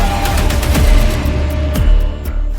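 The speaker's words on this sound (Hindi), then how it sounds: "ज़ेलेंस्की भी ये धमाके देख रहे हैं" Explosions from strikes during the war in Ukraine, a loud, continuous battlefield din punctuated by several sharp, booming blasts at irregular intervals, with no talking.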